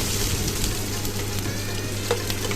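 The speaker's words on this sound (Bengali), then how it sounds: "পেঁয়াজ কুচিগুলা তেলে দিয়ে লাড়তে হবে যেন পুড়ে না যায়" Chopped onions fry in hot oil in a pan for a Bengali-style noodle dish, giving a steady, close, broadband sizzle with a low hum beneath and a brief clink near the end.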